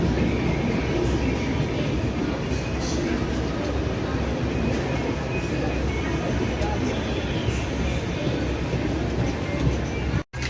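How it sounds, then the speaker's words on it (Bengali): The Sambalpur–Gorakhpur express pulling in on the adjacent track beside a moving train, a steady rumbling rail roar with wheel clatter that holds throughout and ends with a brief sharp drop. "এই পাশে যে ট্রেনটি এখন ঢুকলো সেটি হলো"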